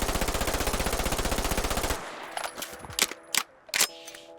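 Full-magazine dump from an MP9 submachine gun in a Fallout 4 mod: a loud, rapid unbroken burst of automatic fire lasting about two seconds, then mechanical clicks and clatters of the emptied weapon.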